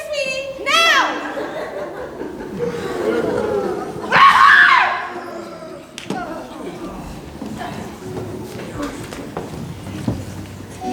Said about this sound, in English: The best scream you could imagine.